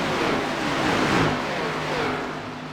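Toyota Supra race car engines in a racing video game roar and rev at full throttle, with rising and falling pitch sweeps as cars pass close by, loud and steady without commentary.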